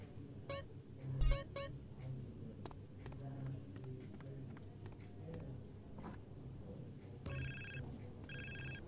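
A mobile phone ringing in GTA San Andreas, repeated electronic ring bursts in short clusters over a low game-world background, with a few brief vocal sounds beneath.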